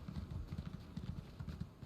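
Horse hooves clip-clop in a quick, even rhythm in Elder Scrolls Online, a steady galloping patter heard at moderate volume with no voices over it.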